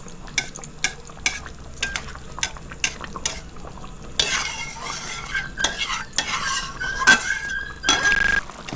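Hilsa fish being covered with mustard gravy in a pan for shorshe ilish, a utensil repeatedly scraping and stirring with short clinks, joined midway by a steady close sizzle and occasional metallic squeaks.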